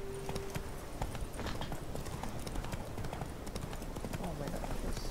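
Hooves of Roach, a horse in a video game, clip-clop in a steady walking rhythm at moderate volume, with a voice talking over the hoofbeats.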